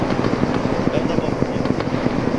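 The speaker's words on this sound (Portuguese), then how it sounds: "Olha o helicóptero." Helicopter in the military game Arma 3, a continuous rotor drone with faint regular thumping, moderately loud and steady beneath ongoing game ambience.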